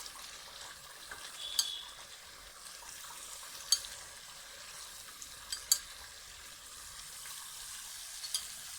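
Chicken karahi, Afghani highway style with yogurt just added, is stirred in a pan with a steady soft sizzle of frying and a few sharp scraping clinks of the spoon against the pan.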